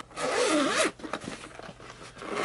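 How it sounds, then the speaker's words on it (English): A zipper running around a sturdy protective case for Hiearcool L2 over-ear headphones is drawn open in one long, smooth, close rasping pull lasting under a second, followed by softer handling rustles. "there's a zipper all the way around"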